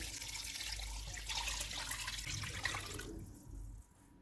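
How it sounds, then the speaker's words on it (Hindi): Water poured glass by glass into a cooking pot of whole spices for chicken pakora pulao, a steady rushing splash running for several seconds before it thins and stops, close and fairly loud with no talk. "7 गिलास पानी के डालेंगे।"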